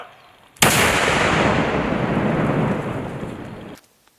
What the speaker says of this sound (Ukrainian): В обидвох випадках відбудеться вибух міни.